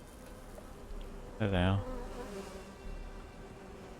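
Bees buzzing in the video game Conan Exiles, a continuous low drone under ambient game sound, with a brief louder tonal swell and a short spoken phrase over it.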